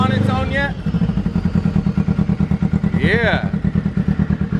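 A Polaris RZR engine, running on an AEM Infinity ECU in a shop, revs loudly with a fast, pulsing throb and swells in pitch; brief talking can be heard at the start and partway through.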